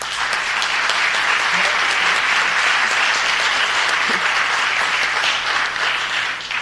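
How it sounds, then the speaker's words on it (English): Applause from the audience at a city council meeting honoring program graduates, a dense, steady wash of clapping that runs loud and unbroken from start to finish. "if we could just give them a round of applause"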